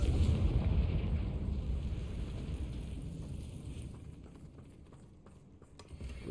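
A Confringo blasting spell explodes in the video game Hogwarts Legacy, a loud rumbling burst that fades slowly into a low settling roar, followed by scattered debris crackles.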